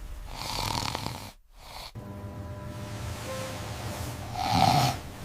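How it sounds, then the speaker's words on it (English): Heavy snoring from a sleeper, two rough rasping breaths separated by a brief pause, close and loud with a snorting edge. "Ignoring sleep apnea and snoring."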